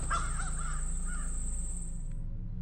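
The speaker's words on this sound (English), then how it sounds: "Over here in the city, it's like the crows that wake up so quickly and then do this caw" Crows caw in a city setting, with a few rough calls up close near the start over a steady low hum and a high electronic whine that stops partway through.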